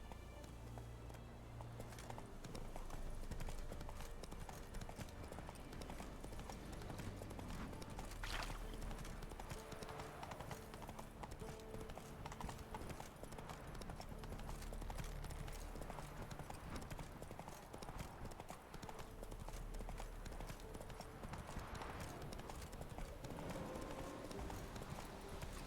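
A horse gallops in the video game Witcher 3, with rapid, steady clip-clop hoofbeats running continuously and quietly throughout.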